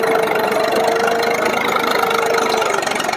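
Eicher tractor working a field with a cultivator, its engine holding a constant, close, rumbling drone with a faint steady hum on top, no voices.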